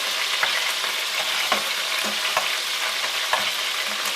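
Lobster tails searing in hot oil for a curry, a loud, dense, continuous sizzle with faint occasional stirring taps, close up with no voices.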